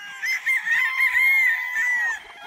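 A game-farm chicken of Boston Sweater, Gilmore Hatch or Yellow-legged Hatch lines lets out one drawn-out call of about two seconds, loud and fairly near, with a honking, crowing quality.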